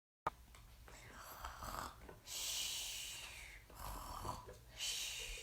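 A voice imitates a bear snoring, giving slow, breathy, rasping snores that rise and fall in steady cycles, close and fairly quiet, with no words spoken.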